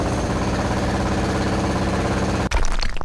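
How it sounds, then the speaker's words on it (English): Heavy rapid jackhammer pounding in the Underrail video game, a loud continuous mechanical rattle that cuts off abruptly near the end, followed by brief scattered clatter. "And get the jackhammer."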